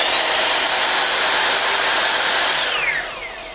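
A miter saw powers up inside a solar-powered cargo trailer, a loud steady high whine holding for about two and a half seconds before dropping in pitch as it spins down, with no talk.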